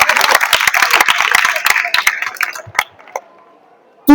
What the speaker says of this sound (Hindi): इनके लिए जोरदार ताली लगाइए।